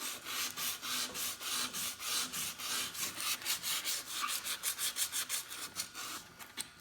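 Hand sanding a crusty wheel rim with 3M 180 grit sandpaper: a steady run of close, raspy back-and-forth strokes, quickening toward the end, with no talking.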